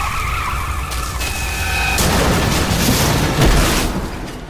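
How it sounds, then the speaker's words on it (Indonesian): A car skids through a road intersection accident, a loud, sustained rumbling screech that swells midway with a heavy impact-like burst near the end, no voices. "sebuah mobil mengalami kecelakaan lalu lintas di persimpangan jalan"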